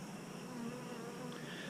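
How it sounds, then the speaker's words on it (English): Honey bees buzzing inside a shipping package with their queen, a steady, dense drone that holds evenly throughout, moderately quiet and with no voices. "Those bees inside were feeding her."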